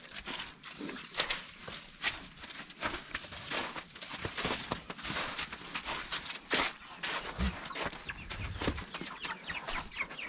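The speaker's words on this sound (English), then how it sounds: "These are the 32 chickens that I hatched from the hens that I showed you before." Chickens on a winter homestead, a flock of young hatched birds clucking and squawking continuously at close range, with faint animal and pasture noises around them.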